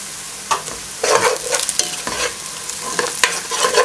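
Onions and slit green chillies fry in a pan for mutton biryani, a loud close sizzle with repeated scraping strokes of a spoon stirring them.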